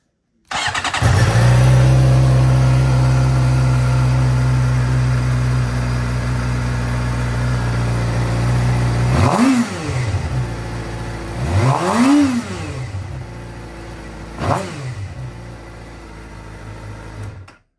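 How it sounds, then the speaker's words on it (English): A 2011 Suzuki GSX-R 600 sport bike cranks and fires up, settling into a loud, close, steady idle before three sharp throttle revs rise and fall in the last seconds. "I am going to fire this up, but I do need to hold in the clutch"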